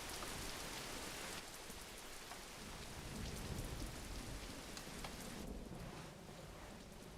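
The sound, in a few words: rain and thunder in an animated movie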